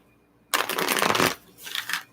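Tarot cards being shuffled, a loud papery riffle lasting nearly a second, then a shorter, softer second riffle, close up with no talking.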